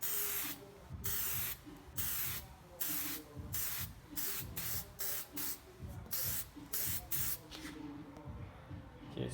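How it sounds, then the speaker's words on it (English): Short bursts of aerosol spray hiss onto a Toyota MR2 Spyder headlight, a quick series of close, light pulses with brief pauses between them, ending in quiet. "do a light spray."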